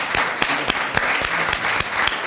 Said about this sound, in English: I think a round of applause is appropriate right now.